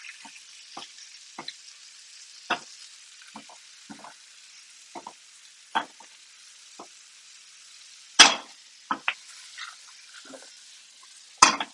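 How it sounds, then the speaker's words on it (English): Shallots and almonds sizzle in a pan under a steady hiss while non-stick tongs stir them, giving scattered scraping clicks and a few sharper knocks, close by with no voices. "I might need non-stick tongs just to mix up the shallots so it's not all in one place"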